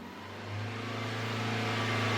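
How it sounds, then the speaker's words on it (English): A car engine at idle rises smoothly as the throttle is gently opened toward about 3000 RPM, a steady mid-pitched hum swelling and holding close and alone. "Now let's gently bump up the RPM towards 3000 RPM."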